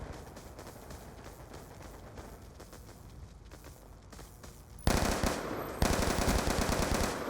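Rapid automatic fire from the basic weapon in Call of Duty: Black Ops 2 multiplayer, a dense steady rattle of shots that jumps sharply louder and brighter for the last few seconds.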